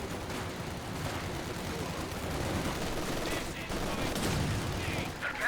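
Machine-gun fire in a Company of Heroes 2 battle, an MG nest pushed far forward, rattling in dense continuous bursts amid a busy battlefield mix, with occasional louder reports near the end.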